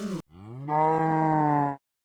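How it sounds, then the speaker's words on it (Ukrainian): A cow in the video game Baldi's Basics Classic Remastered lets out one long, drawn-out moo close by, following a brief, higher sound at the start. "Це що, корова?"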